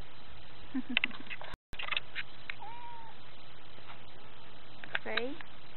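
A cat meows a few times, short and close, with soft rustling and a brief dropout in between.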